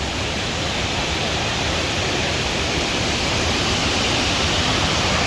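Steady, dense roar of a waterfall's rushing water on a Brecon Beacons walk, a loud, unbroken broadband wash filling the whole clip with no talk over it.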